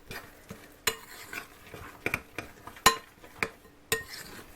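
Bean patty mixture stirred and mashed in a bowl, with a series of sharp clinks and scrapes at an irregular pace, close and fairly quiet, no talking.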